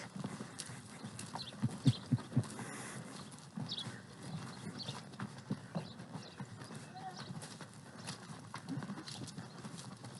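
Horses' hooves clip-clop in uneven bursts as riders circle at a ranch, with occasional neighs and voices talking over the steady outdoor hoofbeats.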